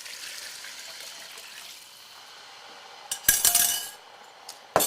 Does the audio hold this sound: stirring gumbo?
yes